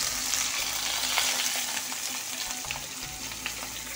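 Whole cardamom pods and bay leaves fry in hot oil in a pan, giving a steady, close, continuous sizzle with faint crackles and a few stirring scrapes throughout, no voices.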